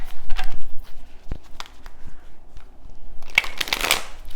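A deck of tarot cards is shuffled close up, with quick riffling and soft slapping of cards building into a dense, crisp flurry near the end.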